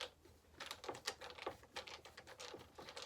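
Loose bits rattling inside the gas tank of a Dolmar 6400 chainsaw, a quiet, steady stream of small irregular clicks and taps as the tank is shaken, heard close up with no talk.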